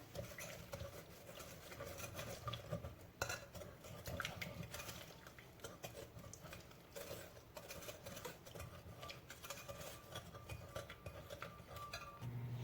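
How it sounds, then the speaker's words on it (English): Lemon cake batter is stirred in a bowl with a utensil, producing quiet, continuous scraping and soft clinks in an irregular rhythm. The sound is close but faint, with no speech. "We're going to mix it well."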